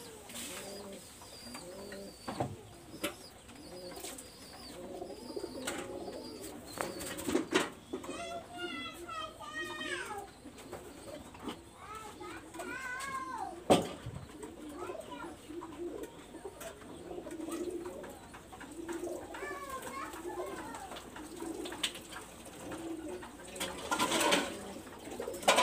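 Two red-eyed female pigeons coo and rumble near at hand, with bursts of chirping and wing shuffles, while children's voices and other chatter carry on faintly around them.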